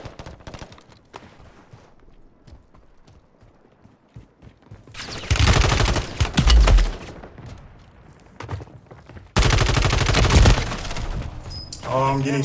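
Gunfire bursts in Call of Duty Warzone, two loud dense volleys of rapid shots with quieter scattered shots and game sounds between them, under occasional talk.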